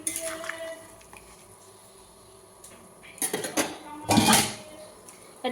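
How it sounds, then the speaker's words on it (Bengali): Pabda fish go into a lightly spiced curry with potato and eggplant in a pot on the stove. A quiet simmer gives way to metallic clattering and scraping from stirring, then a louder clank as the lid goes on. "এবার পাবদা মাছগুলো দিয়ে দেবো মাছগুলো দিয়ে একটু হালকা করে নাড়াচাড়া করে দিয়ে ঢাকা দিয়ে দেবো"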